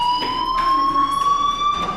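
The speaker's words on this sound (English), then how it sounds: "Hey, do you hear that fire alarm? That means you should be outside." A school fire alarm in the game Life is Strange sounds as a loud, continuous electronic tone with a buzzy, siren-like edge, holding steady throughout with soft background ambience.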